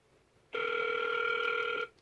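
A phone placing a call to the AT&T support line gives one sustained electronic ringback tone, steady and fairly loud, sounding alone for just over a second before it cuts off.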